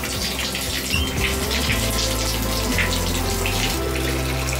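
Tap water pours steadily into a bathtub as it is rinsed out, a continuous close rushing flow with a low pump-like hum underneath.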